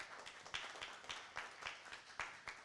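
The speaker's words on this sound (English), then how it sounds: "please join me in giving a round of applause to our panelists today" At an AI and aging summit, an audience gives the panelists a brief, faint round of applause, heard as a steady run of evenly spaced claps.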